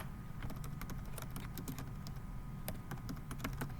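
Rapid, irregular keystrokes on a computer keyboard sound close and crisp, a steady run of light clicks over a low background hum, with no talking.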